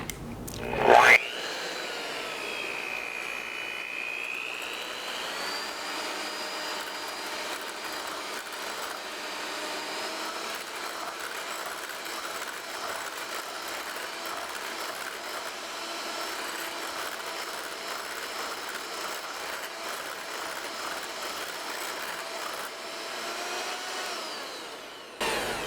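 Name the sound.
electric mixer whipping meringue, whining noise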